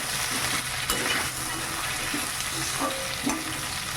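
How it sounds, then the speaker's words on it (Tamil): Potatoes fry in oil with curry leaves, giving a dense, steady sizzle up close, with light stirring scrapes and an occasional utensil clink. "எண்ணெயிலே உருளைக்கிழங்கு நல்லா வந்து எண்ணெயிலே பாருங்கள் நல்லா வதங்கிடுச்சு"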